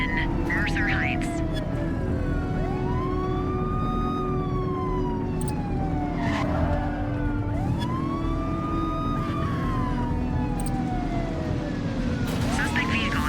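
A police car in the video game The Precinct runs a pursuit, its siren wailing in repeated rising and falling sweeps over a constant engine drone, with a voice talking underneath.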